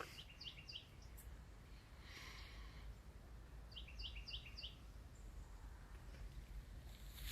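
Small birds chirp outdoors in short, quick bursts of high tweets, two clear clusters over a steady wind-like background with no talking.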